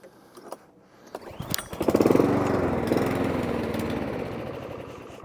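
A Mountfield lawnmower with a faulty, non-adjusting throttle assembly starts up with a few sputters, then settles into a loud, steady petrol engine drone close by, with no one speaking.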